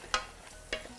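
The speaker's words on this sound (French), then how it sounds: "Je mélange mon persil avec les oignons, l'ail, le chorizo" Two quick spatula scrapes while parsley is stirred with onions, garlic and chorizo in a pan, over a soft, quiet sizzle.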